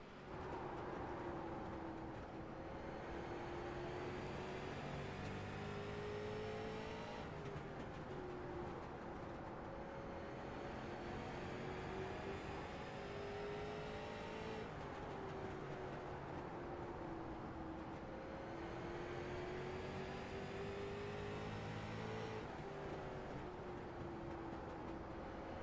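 In-car sound of a street stock race car engine, a continuous loud drone rising and falling in pitch as the throttle is worked through repeated laps, with no talk.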